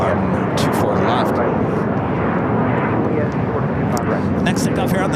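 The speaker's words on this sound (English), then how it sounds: "China Eastern, flight 586. Heading back to Shanghai at a 777-300ER. Next takeoff on the north side on 24 left." A China Eastern Boeing 777-300ER bound for Shanghai roars down runway 24 left at LAX on takeoff, a loud, steady broadband jet rumble filling the whole clip.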